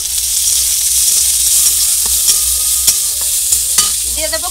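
Finely chopped onion fries in hot oil with a steady, close sizzle and hiss, broken by scraping stirs and light clinks of a spoon against the pan.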